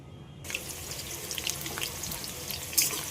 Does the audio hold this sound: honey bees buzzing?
no